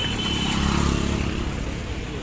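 Dense street traffic jammed in Kolkata, a continuous close roar of engines and motorcycles idling and revving, with a faint clatter mixed into the steady rumble.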